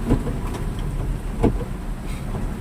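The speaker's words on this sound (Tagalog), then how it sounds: "Grabe ang ulan." Heavy rain falls in Baguio city, a dense steady wash of noise with a few louder splashes or knocks mixed in.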